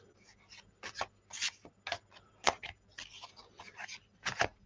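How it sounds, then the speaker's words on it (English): A deck of astrology reading cards is shuffled by hand, giving a quick run of soft, irregular papery riffles and slaps, close and fairly quiet against a silent room. "let's give them a good shuffle."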